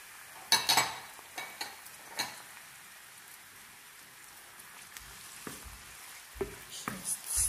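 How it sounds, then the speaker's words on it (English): Onions with green and red paprika stirred in a pan for a fresh tomato sauce, heard as scattered spoon clinks and scrapes over a faint background sizzle, with a quiet stretch in the middle and no talk. "Just stir that together. Stir that stuff together."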